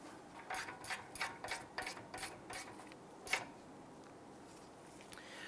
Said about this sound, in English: we'll go ahead and snug these bolts down